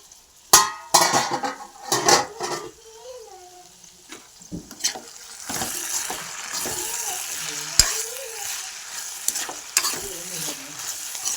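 Crushed garlic sizzles in hot oil in a pan while a spoon stirs and scrapes against the metal in irregular bursts, close and fairly loud, with a faint cat meow or two in between.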